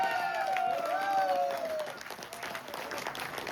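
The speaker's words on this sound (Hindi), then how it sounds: "मैं चाहूंगा एक बार जोरदार तरीके से तालियां होनी चाहिए" Applause from an audience at a blockchain business program in Jaipur keeps up as a continuous patter of clapping, with a tonal whoop or whistle sliding over it early on and crowd murmur beneath.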